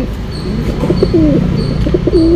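Breeding pigeons coo close by in a brief run of soft, throaty rolling calls, repeated a few times over a low background rumble.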